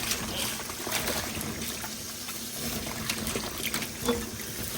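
Peeled taro stems being rinsed in water outdoors, a soft steady trickle and light splashing that runs continuously at low level with faint background noise.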